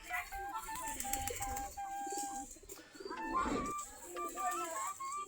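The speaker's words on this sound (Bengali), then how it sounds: "সবগুলো দেশি গিরিবাজ কবুতর।" Desi Giribaj pigeons coo softly in repeated low, throaty phrases, several birds overlapping at close range in an otherwise quiet space.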